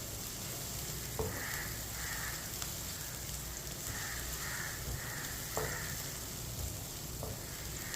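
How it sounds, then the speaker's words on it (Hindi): Finely chopped onion fries in half a cup of oil while a spoon stirs it, making a continuous sizzle broken by occasional sharp clinks of the spoon against the pan. The sound is steady and close, with no talking. "एक बारीक कटा हुआ प्याज, प्याज को मिक्स कर लेंगे।"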